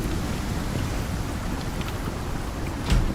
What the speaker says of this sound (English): I have to wait till it quits raining.